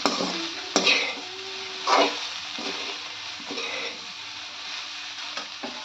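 Soybean chunks with masala get sautéed in a pan, with a soft steady sizzle broken by sharp spoon scrapes and clanks against the metal at irregular intervals.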